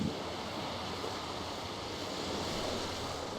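Rolling ocean surf from the Lotano Sea around a windswept isle in Final Fantasy XIV, a steady, continuous wash of waves with a faint wind-like hiss, even in level throughout with no voices.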